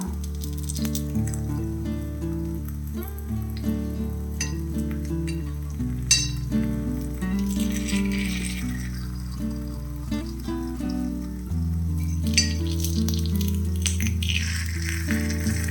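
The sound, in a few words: oats sweet paniyaram frying in ghee, being flipped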